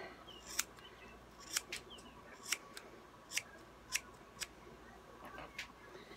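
Scissors snip through synthetic wig hair in a series of about seven sharp, close clicks spaced roughly a second apart, over a faint steady background hiss.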